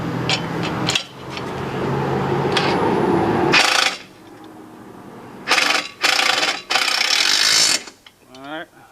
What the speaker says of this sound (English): Put the wrench on the inside on these other two.